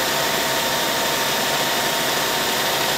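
1998 Hitachi Seiki HT23J CNC lathe with its spindle running at 4000 RPM: a steady, loud, high whine and whir, constant and unbroken throughout.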